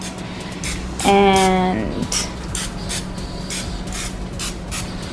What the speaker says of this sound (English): we are just spraying some canola oil